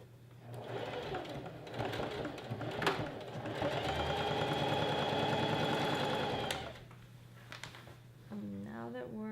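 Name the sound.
sewing machine stitching a 1-inch roll hem on a skirt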